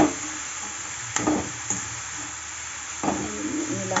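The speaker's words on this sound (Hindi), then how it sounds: "और गोभी को हम भून लेंगे।" Cauliflower frying with turmeric and spices in a pan, a close, soft steady sizzle with a few louder stirring scrapes.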